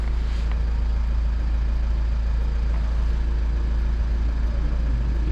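Kia Sorento R diesel engine idling, a steady low rumble heard close and continuous without pauses.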